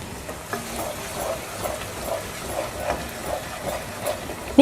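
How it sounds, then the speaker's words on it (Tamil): Green chilli, ginger and garlic fry in oil in a nonstick pan with a soft, steady sizzle and small regular pops and bubbles, heard at close range with no voices. "அடுத்தது பாருங்கள், ஃப்ரை ஆகிக்கிட்டே இருக்கட்டு"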